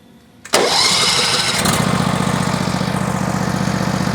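An engine on an OEM ride-on floor scraper cranks briefly, catches with a sudden loud burst and then settles into a steady, rapidly pulsing idle nearby.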